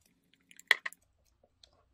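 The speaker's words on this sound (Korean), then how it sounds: "벽에 묻은 거는 이렇게 깔끔하게 이렇게 긁어주면서 계속 저어주세요." Homemade moisturizing cream being stirred and scraped off the sides of a bowl while still warm: a few soft, wet squishing scrapes, one brief burst near the middle, otherwise quiet.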